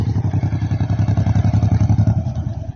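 A motorcycle engine chugs loudly and close by with a rapid, even throbbing pulse that holds steady for a few seconds before easing slightly.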